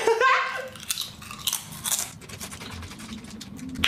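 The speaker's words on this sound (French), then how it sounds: "Ça croustille bien. On a envie toujours d'en manger plus des chips." Ikea potato chips being eaten up close, loud crisp crunches and chewing bites in an irregular rhythm, with a short vocal sound at the start.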